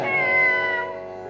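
A man imitates a cat with his mouth, producing a single drawn-out, tonal meow that rises then fades, loud and near, with no other sound around it.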